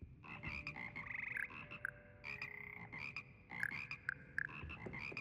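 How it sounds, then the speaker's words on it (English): Frogs croak in the video game Hogwarts Legacy, a steady chorus of repeated, overlapping calls that fills the scene with no talking. "I would rather listen to the frogs sing."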